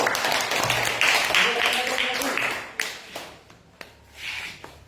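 Students in a classroom clap together in a brief burst of applause, dense and fairly close at first, then thinning into a few scattered claps and shuffles.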